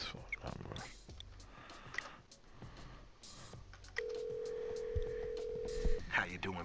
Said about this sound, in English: let's give that phone number a little ring